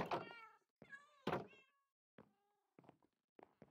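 Several Minecraft cat meows in a row, the first few longer and louder, then three short, quieter mews spaced apart, with no talking.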